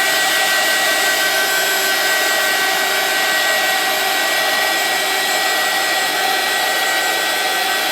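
A heat tool blows steadily on a papercraft card, making a loud, continuous, close-up roaring hiss that holds unchanged for several seconds with no talk over it.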